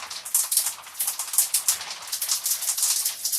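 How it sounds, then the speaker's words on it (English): Breathy, hissing noise shaped into syllable-like bursts, a whispery robotic rhythm of rising and falling pulses with no clear pitch. "The carrier signal is set to noise by default, so that sounds like this."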